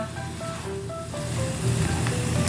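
Ginger added to fenugreek leaves and potatoes in a hot pan, giving a continuous, close sizzle with bubbling crackle that swells slightly louder toward the end, with no talk.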